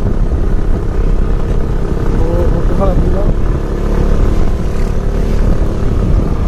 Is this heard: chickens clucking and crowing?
no